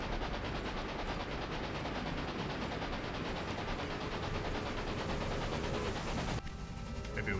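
A train engine in the Railway Empire game labours uphill, a steady dense rumble with a faint rhythmic chug that drops away abruptly near the end.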